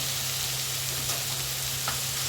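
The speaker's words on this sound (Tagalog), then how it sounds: "let's add the giniling" Ground meat (giniling) hits a hot pan and sizzles in a steady, dense hiss, close and even, with a few faint stirring scrapes and no talking.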